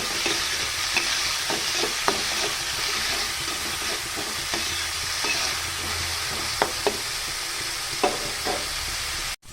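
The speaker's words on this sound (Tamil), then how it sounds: "தேவையான உப்பு சேர்த்துக்கலாம். நல்லா வதக்கிக்கிறோம்." Mint with green chilies and salt sautéing in a pan, a steady close sizzle punctuated by scattered taps and scrapes of a stirring spoon, ending abruptly, with no talk.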